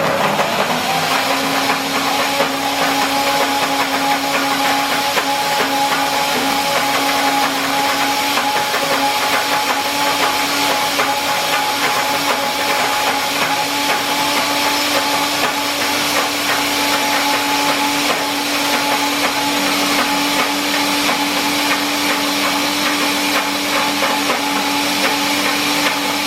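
A blender running on high whizzes gluten-free, nut-free chocolate brownie batter with a continuous, loud whirring roar. The sound holds steady for the whole stretch, up close.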